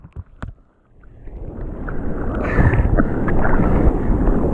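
A fishing kayak paddles out through ocean surf in a two-metre swell, a few splashy paddle strokes giving way to a building rush of churning water and wind, close and fairly loud.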